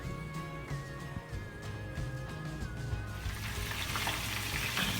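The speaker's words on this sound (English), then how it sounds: "here I am frying my chicken" Chicken frying in a pan makes a continuous sizzle that grows louder and denser toward the end, with a faint tonal whine in the background.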